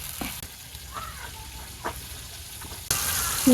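Salted potatoes sauté in a pan in a village kitchen. A steady close sizzle carries occasional stirring scrapes, then swells abruptly louder near the end.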